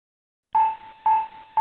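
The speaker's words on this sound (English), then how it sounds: "Offer an audio alternative to the CAPTCHA." Three identical bright electronic tones chime in an evenly spaced series, each starting sharply and fading, clean and alone with silence before the first, offered as an audio CAPTCHA alternative for blind users.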